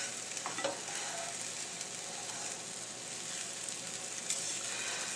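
Scrambled eggs sizzling in a pan over medium-high heat, a steady, soft, hissing fry with faint scrapes from stirring, no voices.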